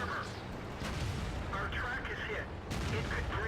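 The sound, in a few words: T29 tank cannon shot, from the video game World of Tanks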